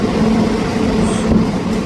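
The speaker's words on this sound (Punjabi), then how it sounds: "ਆਪਣੀ ਟ੍ਰੇਨ ਆ ਰਹੀ ਹੈ" Passenger train 14735 on the Sri Ganganagar to Ambala Cantt route rolls into an old British-era station with three platforms, making a loud, steady, close rumble that holds level throughout without a voice.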